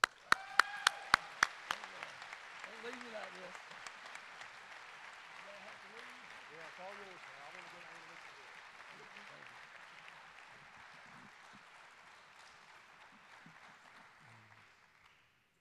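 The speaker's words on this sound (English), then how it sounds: "big round of applause for Terry Sellers." A press-conference audience applauds at a retirement event, opening with a few sharp claps and then settling into a sustained round of clapping that slowly fades out, with some murmured talk mixed in underneath.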